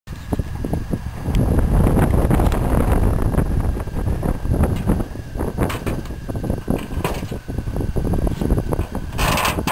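An antique moving van's engine revs under throttle, a steady loud rumble with buffeting wind noise and rattles, running continuously throughout.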